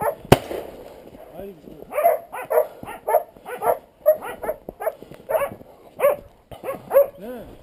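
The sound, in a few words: dog barking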